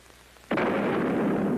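A cannon fires once, a sudden loud blast that opens into a broad, steady roar holding at full strength to the end with no fade.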